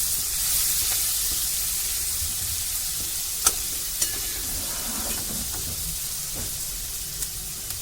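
Spice masala with turmeric, chilli powder and salt frying in a pan gives a steady close sizzle and hiss, with a few sharp taps and scrapes of stirring against the pan.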